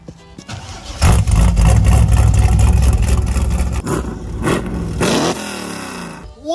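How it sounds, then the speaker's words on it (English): An already warm Holden Commodore beater car starts and revs hard, a loud close engine roar that rises, dips and surges again over several seconds before easing off, with no talking. "Let's hear his V6 Ecotec."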